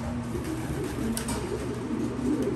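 Domestic pigeon, a blue bar bird with white flights, cooing softly in a loft with steady low background noise, the soft coos running low and continuous throughout.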